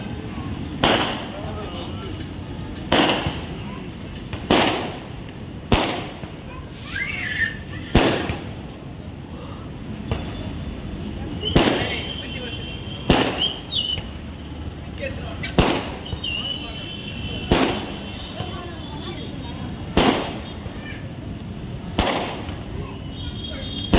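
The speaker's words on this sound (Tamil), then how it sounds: "அப்போ அந்த பட்டாசுலாம் வெடிச்சிட்டு இருந்தாங்க" Firecrackers bursting at a nearby wedding hall during a coming-of-age ceremony, a string of loud, sharp bangs spaced a couple of seconds apart over a rumbling background of crowd and traffic.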